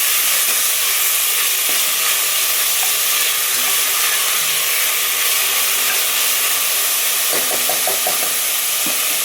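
Onions and green chillies sautéing in a pan, a continuous loud sizzle and hiss with a few faint clicks of a utensil, no voices.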